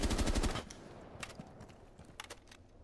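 Gunfire in the Rainbow Six Siege game: a fast burst of automatic shots at the start, then scattered single cracks and faint clicks, fairly quiet overall with no talk.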